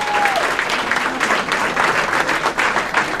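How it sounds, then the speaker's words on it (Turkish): An audience at a FuckUp Nights event in Ankara breaks into steady applause, a dense, even wash of clapping hands that fills the room from start to finish. "Çok ciddi bir alkış rica ediyorum."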